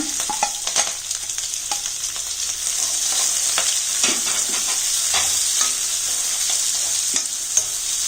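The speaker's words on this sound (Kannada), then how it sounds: "ಈಗ ಕೊತ್ತಂಬರಿ, ಕರಿಬೇವನ್ನು, ಈರುಳ್ಳಿ ಹಾಕ್ಬಿಟ್ಟು ಫ್ರೈ ಮಾಡೋಣ." Onion, coriander and curry leaves fry with popped mustard seeds in hot oil for a pumpkin curry, giving a steady loud sizzle broken by frequent scraping stirs of a spoon against the pan.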